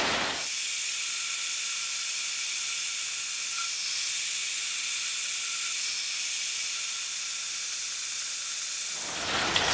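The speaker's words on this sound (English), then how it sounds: "I'm gonna chop those up here in the bandsaw" A bandsaw cuts aluminum corner pieces for a Chevy C10 radiator support, giving a steady, loud, continuous hiss and whine that holds for the whole stretch and then stops abruptly at the end.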